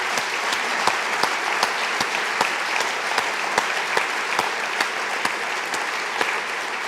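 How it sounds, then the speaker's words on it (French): Lecture audience applauding the speaker and guest at the end of a talk, sustained dense clapping with a few sharper individual claps popping out over the steady wash. "Il faut vous applaudir notre conférencier et notre invité."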